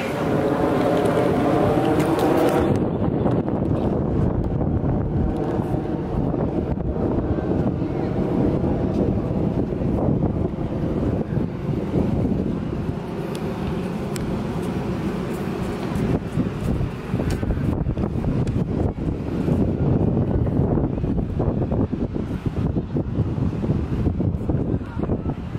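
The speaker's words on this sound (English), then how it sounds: "So it's probably super windy, but we're currently at the beach." Strong wind blowing at the beach, loud buffeting gusts roaring across the microphone continuously for the whole stretch, with faint voices briefly audible at the start.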